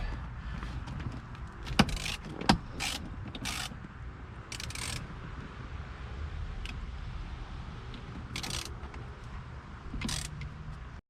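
Steering wheel puller being worked on a 2009 C6 Corvette steering wheel, a steady mechanical grinding hum with scattered sharp metallic clicks and two louder knocks early on, close and moderate, no talking.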